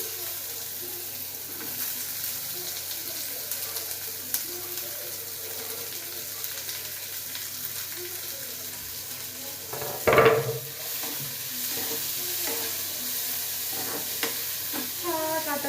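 Chopped onions frying in a pan with roasted garlic, a steady soft sizzle with occasional stirring scrapes and one louder clatter partway through, no talking.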